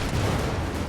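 Mortar and artillery fire in Company of Heroes 2, a dense, continuous rumble of booming shots and blasts filling the whole second, loud and close with no pauses.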